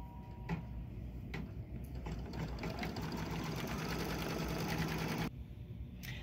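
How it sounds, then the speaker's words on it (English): An embroidery sewing machine stitching a tack-down for a gingerbread man appliqué, a fast steady rattling run of stitches that stops abruptly near the end. "it's going to stitch the tack down"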